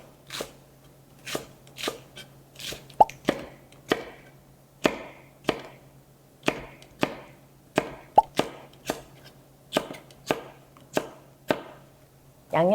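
A knife chops blanched eolgari cabbage on a cutting board in a series of about eighteen crisp, close thuds at an uneven, unhurried pace, with quiet pauses between strokes and a faint low hum underneath.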